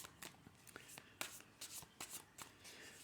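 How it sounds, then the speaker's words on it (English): Soft, quick riffling and tapping of tarot cards being shuffled, several short bursts close by, quiet and crisp with no talking. "I'll just give the cards a bit of a quick shuffle."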